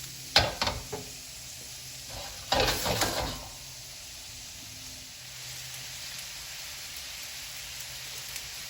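Pork fried rice frying in a hot pan, with a couple of loud spattering sizzle bursts early on, then a quieter steady crackle and hiss.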